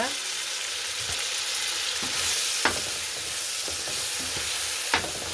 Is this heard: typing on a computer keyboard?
no